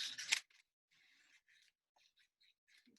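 Paper being trimmed with scissors at a kids' craft table: a loud first snip, then several quick, faint cutting and rustling sounds spaced across the moment, close by with no talk.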